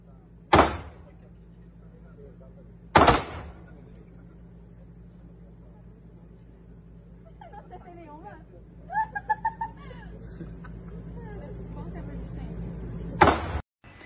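Bow and arrow shots during a survival-show archery challenge, three sharp snapping releases spread far apart, the last near the end, with faint chirpy sounds and a low steady hum between them.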